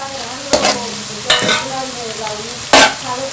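Ginger-garlic paste, vegetables and spices frying in a pan for vegetable egg rice, with a steady low sizzle broken by three loud bursts of stirring and scraping.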